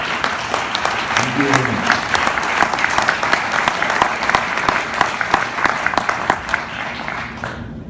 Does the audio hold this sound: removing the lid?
no